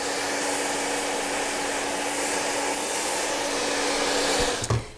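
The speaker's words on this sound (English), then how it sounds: "I'll just section my hair after I dry a section, move the dry part over, and then tackle the section that's damp" A hair dryer blow-drying hair section by section with a brush, a steady close whooshing hum running throughout, with a brief brushy clatter near the end.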